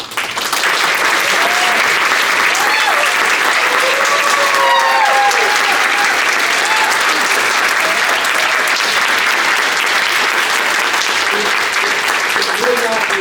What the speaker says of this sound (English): join me in a round of applause for Master David and Master Jenny